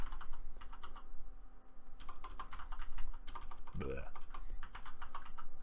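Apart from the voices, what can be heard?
typing on a computer keyboard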